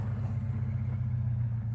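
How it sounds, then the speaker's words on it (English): A 2023 Subaru Crosstrek base with a six-speed manual and a new muffler idles nearby, its exhaust giving a steady, deep, throbbing rumble with no voices. "She's got that legendary Subaru rumble now."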